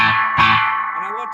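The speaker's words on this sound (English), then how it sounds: "If now I want to put some reverb on the brilliant channel" An electric guitar through the brilliant channel of a Vox Defiant amp with reverb switched on: a sustained, distorted chord rings out with a washy reverb tail, then a sliding bent note emerges alone.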